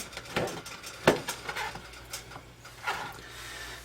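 A knife cuts ripe papaya into chunks, with quiet, irregular taps and clicks of the blade against a board or dish, a few sharper knocks among them, and no one talking.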